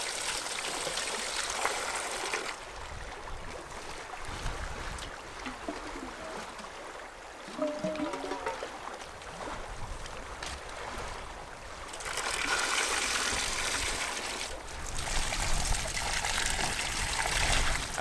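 Freezing glacier meltwater runs down a stream in the northern bush, a continuous close rushing and trickling flow that dips in the middle and rises louder again, with no talking.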